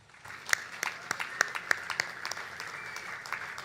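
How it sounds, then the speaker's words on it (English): Audience at the Surf City El Salvador ISA World Surfing Games finals gives a round of applause, sparse distinct claps over a light background, moderately distant and tapering off. "So a big round of applause for all of them, please."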